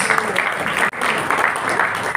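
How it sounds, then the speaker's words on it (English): Audience clapping at an annual school felicitation ceremony in South Goa, a steady burst of many hands applauding, close and fairly loud, with a brief break near the middle. "Don't restrict yourself, keep clapping"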